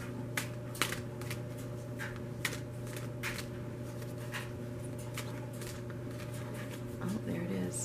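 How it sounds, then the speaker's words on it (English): A deck of oracle cards is shuffled in several quick riffling bursts and soft taps, close up over a low steady hum. "Get one of these energy oracle cards if I can even shuffle the deck."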